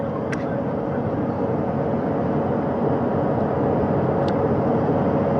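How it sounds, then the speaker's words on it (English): A helicopter hovers a short distance off during an Artemis II crew recovery at sea, making a steady, unbroken rotor and engine roar that stays loud and constant throughout. "That helicopter will now hover just a distance away to give room for the first helicopter to come back"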